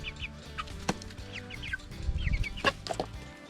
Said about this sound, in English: That's my rooster, Rex.